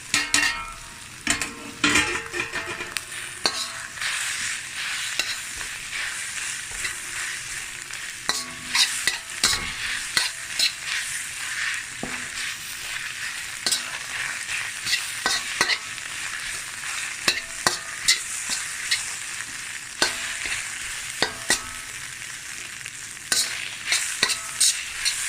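Shredded chapati and softened onions stir-fried for chapati egg kothu, with steady sizzling under constant rapid scraping and clacking of a spatula against the pan, close and busy throughout.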